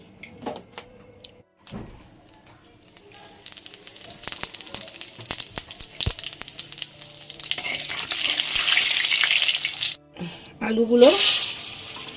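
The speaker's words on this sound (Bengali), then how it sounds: "কড়াইতে আমি একটু দিয়ে দেবো জিরে ফোড়ন," Cumin seeds crackling in hot oil in a kadai while mutton kosha is being cooked. Clinks and handling noises come first, then a rising sizzle that grows louder and fuller, with a brief pause and a final burst near the end.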